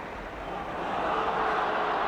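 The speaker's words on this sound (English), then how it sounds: "So it stays at 2-0, but the crowd applaud nonetheless" Football crowd at a 1980-81 West Bromwich Albion versus Manchester United match applauding, a dense wash of clapping and murmur swelling slightly over two seconds, steady and fairly distant.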